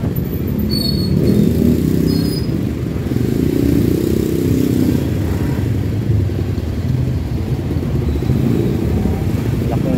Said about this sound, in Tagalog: Wala na, sobra ng traffic dito.